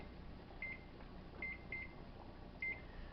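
A kitchen microwave timer gives four short, high electronic beeps at irregular intervals while its keypad is set, over a low steady room hum with no talking.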